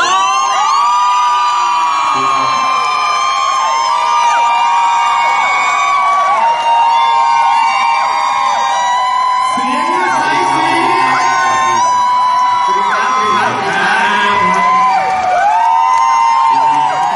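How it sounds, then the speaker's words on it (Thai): A studio audience at a Thai TV singing competition whoops, screams and cheers in welcome, a loud sustained crowd roar with shrill yells rising and falling throughout, mixed with music. "เสียงปรบมือและเสียงกรี๊ดต้อนรับ"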